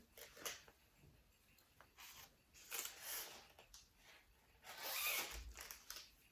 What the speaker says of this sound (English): let's check out the zip and see whether that works good